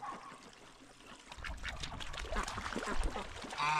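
Ducks quack and chatter by a snakehead fish pond, a busy cluster of calls building in the second half over soft water and outdoor background.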